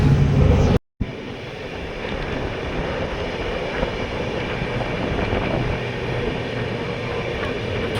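Mangaluru–Yesvantpur express running on rails toward Krishnarajapuram, heard from inside a nearly empty coach: a continuous loud rolling roar with faint clatter, broken by a brief dropout near the start.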